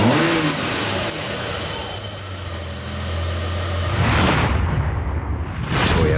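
A Toyota Yaris small car engine runs and then revs up in a TV commercial, loud and close, with a swelling rush near the end.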